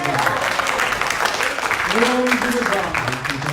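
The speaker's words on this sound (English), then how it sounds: "Give Him, the Lord, a hand clap tonight." A church congregation at a night of prophecy at Grace Fellowship Church in Mountain View, Arkansas claps hands together in steady, dense applause throughout, with voices calling out and singing over the clapping.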